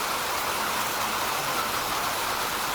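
Heavy rain pours steadily over Jammu as a dense, unbroken hiss, loud and close, with a faint low rumble beneath and no voices.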